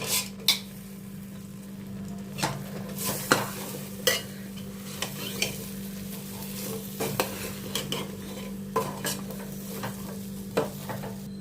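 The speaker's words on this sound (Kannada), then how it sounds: "ಇದು ತೊಳೆದಿಟ್ಕೊಂಡಿರೋ ತರಕಾರಿ ಹಾಕೋತಾ ಇದ್ದೀನಿ" Washed vegetables tumble into a pot for bottle gourd sambar and are stirred, with intermittent spoon scrapes and clinks over a steady low kitchen hum, no voices.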